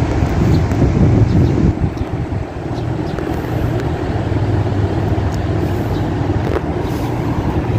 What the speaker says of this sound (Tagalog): Malakas ang hangin, malakas ang hangin